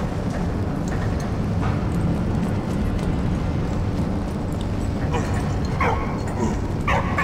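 A dog in the war game Valiant Hearts: The Great War barks and yips in short bursts over dense, loud game ambience, with someone talking throughout.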